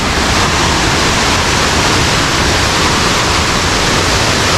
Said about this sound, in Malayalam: അന്യായ വെള്ളച്ചാട്ടം, ഒരു രക്ഷയില്ലാത്ത വെള്ളച്ചാട്ടം.